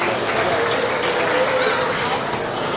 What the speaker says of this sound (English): Let's give these exhibitors a round of applause as they leave the ring.